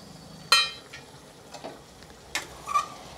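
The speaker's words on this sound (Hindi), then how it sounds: "मसालों को भी हमें गोश्त के साथ अच्छी तरह से भून लेना है धीमी आंच करके" Mutton frying with added spices such as coriander powder, turmeric and salt over low heat, heard as a faint sizzle broken by a few sharp scrapes and clinks of stirring in a quiet kitchen.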